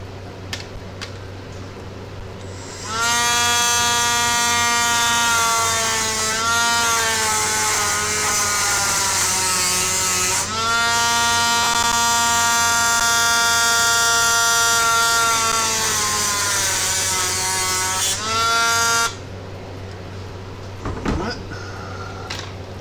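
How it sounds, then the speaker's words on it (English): A Dremel rotary tool trims parts on an Athearn Blue Box SW1500 model locomotive, a loud, steady high-pitched whine held for about sixteen seconds with slight pitch dips, starting and stopping abruptly in a quiet workroom. "So I'm going to use the Dremel and trim those off a little bit."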